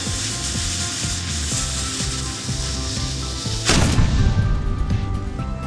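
A rhythmic rubbing, scraping noise repeats steadily, then a sudden loud cannon blast fires a Herkimer diamond, ringing off into a rough decaying rumble.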